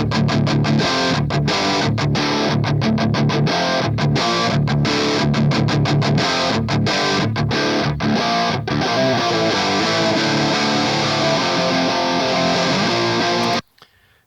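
Heavy distorted electric guitar played through a Two Notes Wall of Sound cabinet simulator, with thick chugging riffs and sharp rhythmic stops in the first half, then sustained chords ringing loud and alone before a sudden cut at the end.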